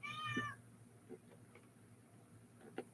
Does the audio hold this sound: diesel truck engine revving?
no